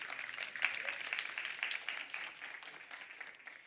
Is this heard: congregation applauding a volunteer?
yes